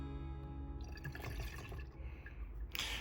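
An ounce of Wipeout cleaner is poured into a measuring container for a wheel-cleaning mix, giving a steady close liquid trickle and fill that ends with a brief splashy rush.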